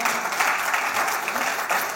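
A dense, steady round of applause from a staff audience at a corporate gathering, close and loud, with many hands clapping continuously over a short stretch.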